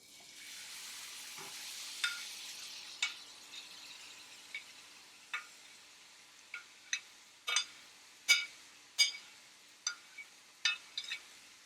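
Half an onion, six garlic cloves and ginger frying in coconut oil, a soft steady sizzle broken by a run of sharp crackles and pops that grow more frequent, close and fairly quiet.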